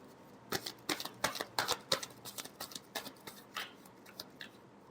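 Tarot cards are shuffled close by in a last round, giving a string of crisp riffling flicks and slaps that come in quick bursts before thinning into lighter, scattered taps.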